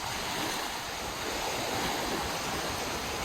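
Ocean waves wash onto a beach in Ishikawa, Japan, a steady broad hiss of surf with slight swells, fairly loud and unbroken by voices.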